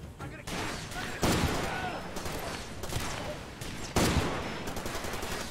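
Far Cry 2 gunfight with loud sharp gunshots cracking out at a few points, the two biggest a few seconds apart, over continuous rumbling battle noise and scattered smaller shots.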